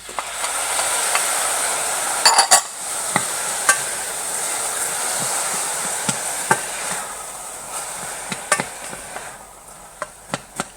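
Spices, oil and tomato stirred in a pan for spiced red lentils: a soft continuous sizzle with sharp scattered clinks and taps of a utensil against the pan, close by and with no voices.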